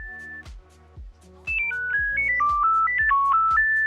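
A bright electronic ringtone on a Nokia Communicator plays a quick stepping melody, loud and close, following a few soft taps.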